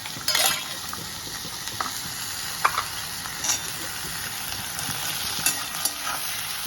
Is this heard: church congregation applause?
no